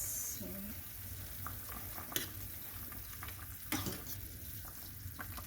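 Tomatoes cook in a pan with a faint, steady sizzle close by, punctuated by a couple of brief clinks and scrapes of a utensil, with no talking.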